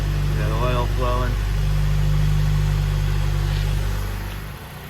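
A car engine idles steadily after repair work, a loud, constant low rumble with a faint hum that eases off near the end. A voice is briefly heard over it early on.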